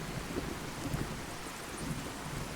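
Rain falling in a modded Fallout 4 game world, with a low rumble of thunder under the steady patter of raindrops, soft and continuous, with no voices.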